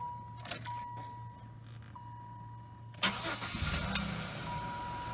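A used Chevy Lumina sedan is started: faint ignition chimes and key sounds, then the starter cranks and the engine catches about midway, settling into a close, steady idle.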